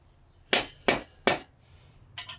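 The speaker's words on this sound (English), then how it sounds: "you want to set the cap in its register. Tap it down." A small-block Chevy main bearing cap is tapped down into its register with three sharp, close knocks, followed by a softer fourth.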